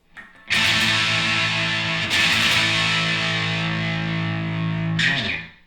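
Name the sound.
electric guitar through distortion pedals and amp, punk tone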